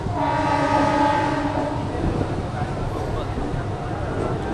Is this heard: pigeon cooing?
no